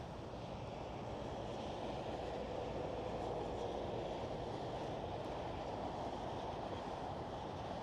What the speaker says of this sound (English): There goes the Saudia 747.